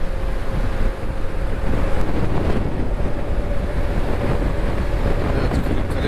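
Steady, loud wind roar buffets the microphone while riding a Kymco scooter into a headwind across a wide plain toward Kırıkkale, a constant rushing blast with a faint engine hum beneath it.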